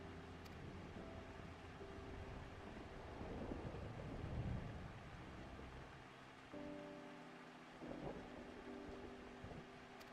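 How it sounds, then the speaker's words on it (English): A thunderstorm in Final Fantasy 14 plays as a steady, faint hiss of falling rain with a low, rolling rumble swelling in the middle, continuous ambience throughout. "I like that the thunderstorm in the background is really setting the environment."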